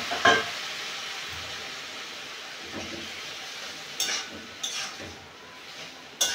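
Jackfruit seeds and boiled potatoes go into a frying masala, producing a steady soft sizzle broken by occasional spoon scrapes and clinks against the pan.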